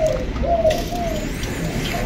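A spotted dove coos in a series of soft, low hooting notes with short pauses between them, close and clear over a faint background.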